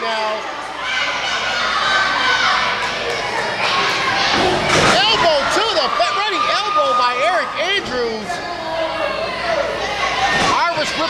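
A crowd of fans, many of them children, shouts and cheers at a live independent wrestling match, loud and continuous, with thuds from the ring and a commentator talking over the noise.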